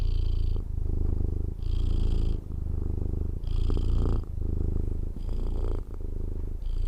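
Close, loud cat purring in a continuous throaty rumble, rising and falling with each breath in and out.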